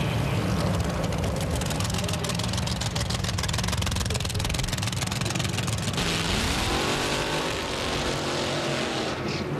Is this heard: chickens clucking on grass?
no